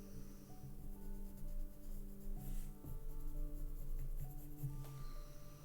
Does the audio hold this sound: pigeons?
no